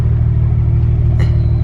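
A Toyota A90 Supra fitted with a catless downpipe idles with a loud, steady, deep rumble close by, and a brief rev swells near the end.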